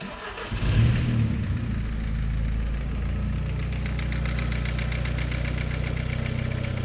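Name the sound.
VW Passat 1.8T 20V big turbo engine starting and idling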